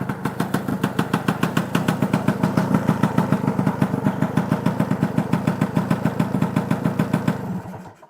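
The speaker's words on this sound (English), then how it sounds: "I like it when I rev it up, I like it to the revs to die pretty much straight away" A cold two-stroke motorcycle engine idles with a rapid, evenly pulsing putter, loud and close, with slight rises in revs. The engine fades out sharply at the end.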